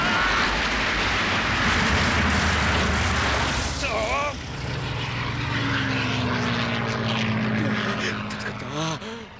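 Propeller airplane engine in a 1991 film scene, droning loudly, then settling into a steady nearby hum with sputtering bursts, under shouted voices and action noises.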